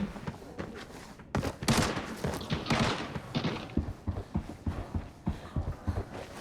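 Gunfire in the video game Arena Breakout, a dense flurry of shots and thuds during a rooftop fight with a boss, loud and continuous with sharp bursts throughout.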